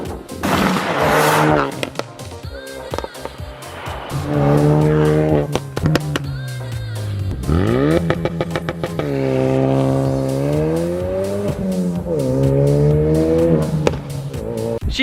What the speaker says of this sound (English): Dude, those pops sound freaking good.